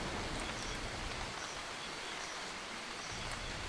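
Rain falls steadily during a storm, a broad continuous hiss with faint patter, fairly close and unbroken throughout.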